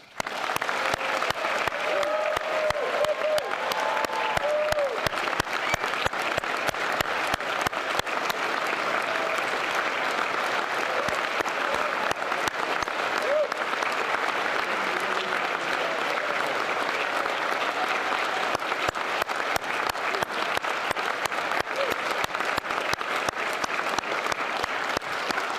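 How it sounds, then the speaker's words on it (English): Sustained applause from a large audience at a military sendoff ceremony for the 1st Battalion, 188th Air Defense Artillery, steady dense clapping throughout with a faint murmur of crowd beneath. "Let's have one more applause for the unit."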